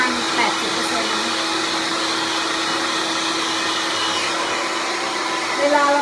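Hand-held hair dryer blowing steadily on damp hair, a continuous loud whooshing airflow with a faint tonal hum, running unbroken throughout with no talking.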